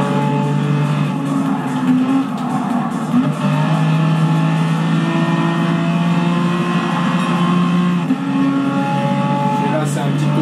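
A race car engine in the PS4 game Gran Turismo drones loudly and steadily with a sustained, slightly shifting pitch, a continuous engine note from start to finish.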